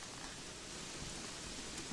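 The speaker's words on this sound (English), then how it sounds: "Rain just gets heavier." Steady heavy rain pours down in the video game Gothic 3, a dense, continuous hiss with no breaks, close and even throughout.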